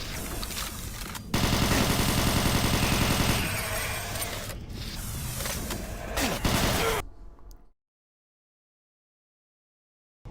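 Dense, loud video-game gunfire in Doom 3 as a canister is shot: sustained rapid bursts of automatic fire that cut off abruptly into silence near the end.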